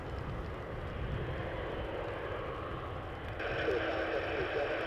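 An Aerologic Boeing 777 freighter at Toronto Pearson Airport produces a low, broad engine rumble at a distance, swelling slightly louder near the end, with faint radio-like chatter in the background.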